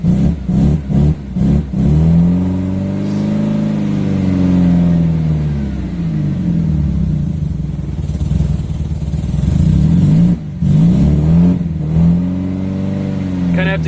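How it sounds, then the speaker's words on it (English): A KA engine in a right-hand-drive car, sluggish on the throttle, revs up close and loud in slow swells that rise and fall, dropping back to a rough idle between presses. "I'll press it and it'll take a moment to rev up."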